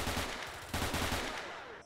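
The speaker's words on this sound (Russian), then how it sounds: "Раз за разом слышатся взрывы." Dense gunfire and explosions in the video game S.T.A.L.K.E.R., a loud rapid burst of shots with a heavy blast partway through, brief and close, no talk.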